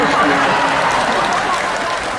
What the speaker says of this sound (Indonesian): Tepuk tangan karena merasa bersalah kok.